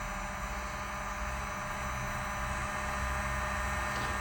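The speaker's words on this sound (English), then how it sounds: "Heat guns on." A heat gun runs at a constant whirring hiss with a faint hum beneath, steady and moderately quiet while it shrinks tubing over wiring.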